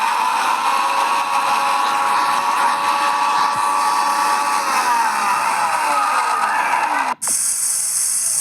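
A mixer grinder whirs steadily at high speed, its motor pitch sliding down gradually before a brief stop and restart near the end.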